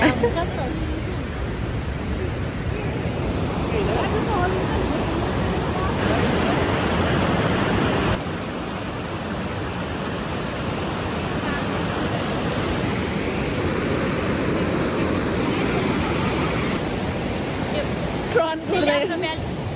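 Rushing river water roars loud and steady throughout a crossing of a mountain stream strewn with large boulders, with faint voices mixed into the continuous wash.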